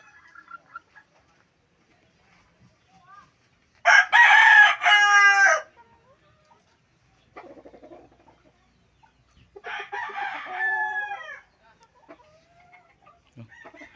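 A rooster crows loudly twice, a long harmonic call near the start and another later, with scattered soft chicken clucks in between and quiet gaps.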